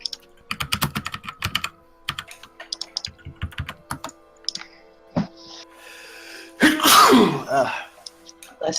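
A person sneezes once, loud and close, after a long run of quick computer keyboard typing in a quiet room. A few more keystrokes follow the sneeze.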